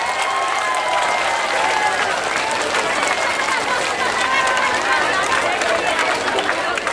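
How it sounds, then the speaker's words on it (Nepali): A large crowd at a political rally claps and cheers continuously, a dense, steady roar of applause with chatter mixed in, sustained at full loudness throughout. "फेरि एकचोटि फेरि ताली बजाउनुहोस् त"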